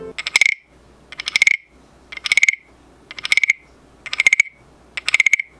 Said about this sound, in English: this cool little guy who's actually a little frog that makes noise